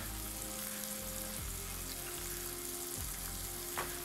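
Cep mushroom slices with thyme flowers frying in a hot pan, giving a steady, close sizzle with a low hum underneath and a couple of soft knocks.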